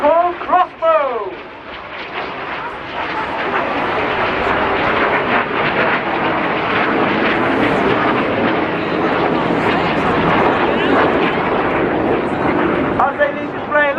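Red Arrows jets perform the crossbow manoeuvre, a synchro pair barrel-rolling toward each other into inverted flight at the Blackpool Air Show, making a loud continuous roaring jet rumble under a commentator's voice over the crowd.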